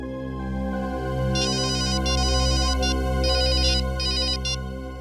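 Electronic telephone ringtone chirping in repeated bright trilling bursts over a steady low musical drone, loud and clear, with no talking.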